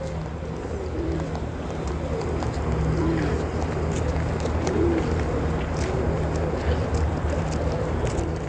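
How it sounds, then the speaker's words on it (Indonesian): Pigeons coo softly outdoors in front of Masjid Sayyidah Aisyah at Tan'eem, low murmuring calls running steadily under a broad bed of ambient street and wind noise. "Nah, ini burung merpati yang sangat terkenal, banyak di tanah haram ini."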